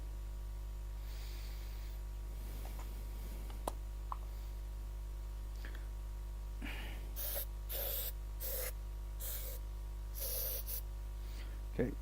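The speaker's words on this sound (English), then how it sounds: "so that's a bit of activator." Glue activator is sprayed in several short, hissing bursts in a woodturning workshop, evenly spaced toward the end, over a steady low electrical hum with faint handling noises.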